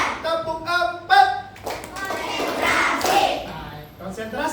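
Children in a classroom clap on a teacher's count, a few short clap bursts mixed with voices and talking, less crisp than steady applause.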